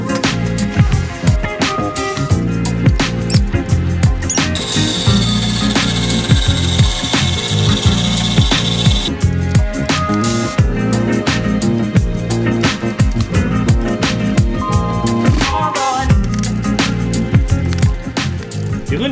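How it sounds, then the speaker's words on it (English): Bandsaw cutting intercooler piping for a turbocharged Miata, producing a loud, continuous harsh grinding with a sharper high screech partway through. "The bandsaw works like a charm."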